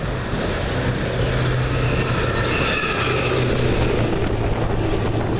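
A railway track tamper rumbles loudly past at close range, a constant grinding, clattering roar with no voices.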